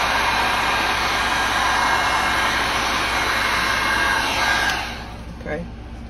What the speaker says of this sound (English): I'm going to get my dryer.